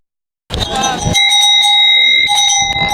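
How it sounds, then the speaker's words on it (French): A metal cow bell of the kind hung on the necks of Swiss black fighting cows rings loudly after a moment of silence, with repeated clanging strikes and a sustained bright ringing tone, close and alone. "ces cloches, on les retrouve au cou des vaches noires suisses qu'on fait combattre"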